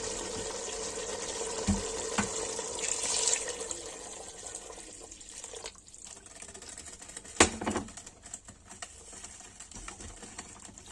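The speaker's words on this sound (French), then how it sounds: "Et là, je vais rajouter de l'eau chaude." Hot water poured into a pot of shrimp soup gives a continuous splashing, trickling hiss that swells and fades over several seconds, close and fairly quiet, with a few clinks partway through.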